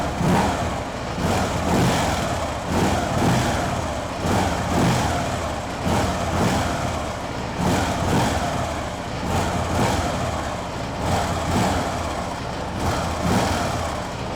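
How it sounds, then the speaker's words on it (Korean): A 2011 Harley-Davidson Road King motorcycle runs with its muffler rumbling low and steady, swelling in repeated throttle pulses, loud and close, with no talk over it. "스로틀을 당기면 아무래도 머플러 사운드가 조금 더 커집니다."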